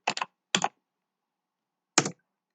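Computer keyboard keys clatter in three short bursts of quick taps, with brief silent gaps between them, close and fairly quiet.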